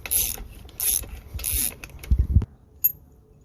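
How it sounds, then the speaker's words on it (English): Someone removes the four head bolts from a Harbor Freight pneumatic air compressor's top end with a 9/16 wrench, making bursts of metallic ratcheting and clicking close up, then a brief scrape and a final clink. "Now you just want to grab your 9/16 and start taking these 4 head bolts off, just like so."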